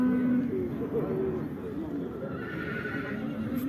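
A horse whinnies amid the bustle of a livestock market in Karakol, with voices talking nearby, faint hoof clops and a bird cooing in the background.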